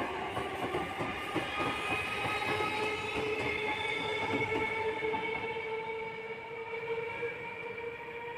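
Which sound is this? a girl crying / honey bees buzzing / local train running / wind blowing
local train running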